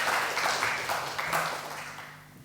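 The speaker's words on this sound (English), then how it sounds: "give him a round of applause" An audience at a startup event claps in a round of applause, a dense spatter of hand claps that starts fairly strong and gradually fades over a couple of seconds, with faint voices underneath.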